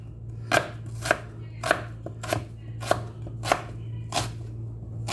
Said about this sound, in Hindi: साफ़ होने के बाद हम इसको बहुत बारीक काटेंगे